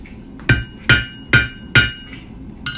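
Four sharp, ringing hammer blows land evenly on a forged steel J hook over an anvil horn, followed by a lighter tap, each strike close and bright with a metallic ring.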